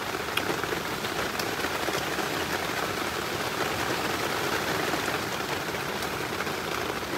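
Heavy rain falls steadily in a forest, a dense, loud, unbroken hiss of drops drumming on leaves and surfaces throughout, with no voices.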